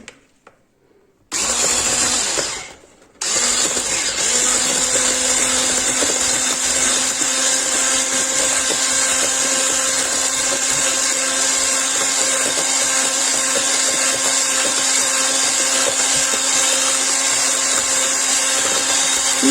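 An electric hand mixer whisks cocoa-laced soufflé batter in a pot, running as a steady, loud mechanical whir after a brief start-stop, continuing alone without talk.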